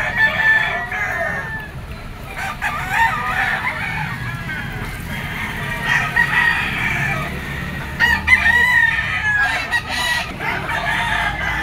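A golden boy bull stag rooster crows repeatedly at a Lipa poultry auction market, its calls standing out over a busy background of clucking fowl and murmured voices.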